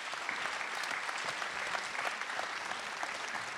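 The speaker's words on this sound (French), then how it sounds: "On peut les applaudir," Audience applause at a municipal New Year's greetings ceremony for residents in Yerres, France: dense, steady clapping from a sizeable crowd, sustained and fairly loud throughout without pauses.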